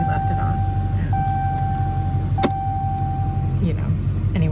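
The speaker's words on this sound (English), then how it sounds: "the car is beeping because he left it on" A car's steady electronic warning tone beeps repeatedly because it was left on, under engine idle, while a person talks nearby.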